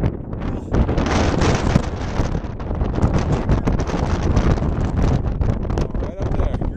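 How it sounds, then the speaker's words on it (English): Strong wind buffets the microphone on a high mountain pass, a steady loud roar lasting throughout with gusty surges, and a voice talks faintly underneath. "It's a little windy."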